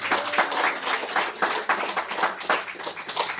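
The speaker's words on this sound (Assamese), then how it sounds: "আমি জোৰকে তালি বজাই ঈশ্বৰ ধন্যবাদ।" A church congregation claps loudly together in a steady, rhythmic stream of sharp handclaps that fills the room and continues without pause throughout.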